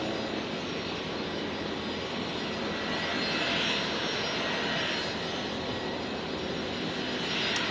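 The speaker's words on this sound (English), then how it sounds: "Nice to see the Air Kalin 320 Neo. This is one we see very rarely." An Airbus A320neo jet at Brisbane Airport at night, heard as a steady, loud engine roar with a broad rushing tone that holds throughout, no voices.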